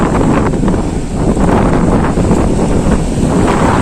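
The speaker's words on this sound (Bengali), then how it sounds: "প্রচুর বাতাস হচ্ছে আর বৃষ্টিও হচ্ছে" Strong wind at Shankarpur beach during monsoon rain roars steadily across the microphone, a loud, unbroken low rumble with gusty swells and no talking.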